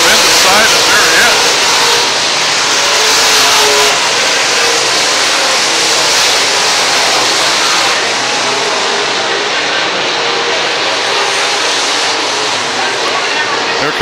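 Late model stock cars race around the State Fair Speedway oval, a dense continuous engine roar filling the track throughout, with a race announcer talking steadily over the noise.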